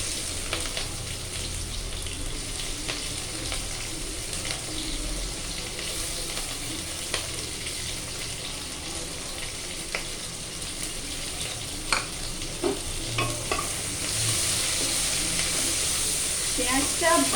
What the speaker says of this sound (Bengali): পেঁয়াজটা ভালো করে লাল করে ভাজা হয়ে যাবে।